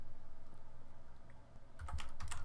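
Computer keyboard keys are typed in a rapid, regular patter while code is written in the Eclipse editor, close and moderately loud, with a short pause before a burst of louder keystrokes.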